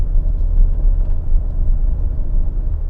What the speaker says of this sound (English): the engine sound that this truck produces, it is fake. It's just fake engine noise being pumped in through the speakers.